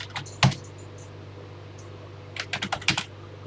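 A TI BASIC program being typed on a home computer keyboard: scattered close keystrokes, a sharp single press early, then a quick cluster of clicks near the end, over a low steady hum.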